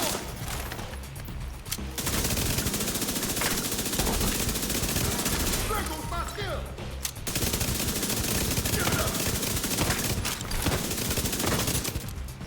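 Sustained bursts of automatic gunfire and shotgun blasts from a firefight in The Division 2 video game, loud and nearly continuous with a brief lull partway through.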